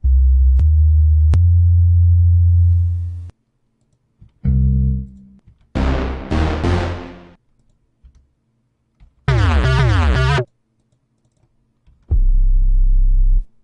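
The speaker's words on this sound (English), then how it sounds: "That's me hitting the keyboard, being random with the melody" Synth notes from DubTurbo music software are played on a keyboard in separate bursts: a low sustained tone, then short runs of bright, rapidly shifting melodic notes, each burst ending abruptly with silence between, loud and close.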